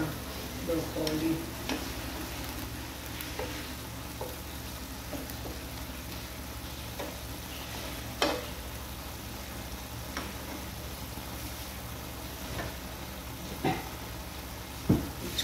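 Broccoli cooks in a pan with a steady, low sizzle, broken now and then by soft clicks and taps of stirring.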